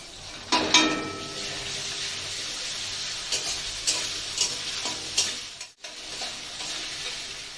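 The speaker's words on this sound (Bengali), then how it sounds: "গ্যাসটা লো ফ্লেমে রেখে কিন্তু আমাকে মশলাটা কষাতে হবে, নইলে কিন্তু পুড়ে যাবে।" Spices being stir-fried in a pan over a low flame for a pointed gourd curry with ginger paste and tomato, a steady close sizzle broken by scraping stirs and spoon taps, with no voices.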